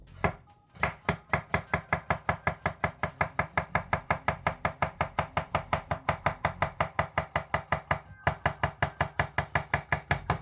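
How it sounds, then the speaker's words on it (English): A knife chops food fast on a cutting board in a rapid, even rhythm of sharp knocks, dozens of strikes in a row with one brief pause, close and clear. "when I'm banging my knife on the board while fast chopping"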